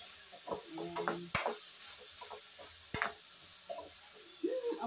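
Vegetables for pakbet sautéing in a pan, a soft sizzle under scattered stirring scrapes and a few sharp utensil clicks, close with a faint high hum.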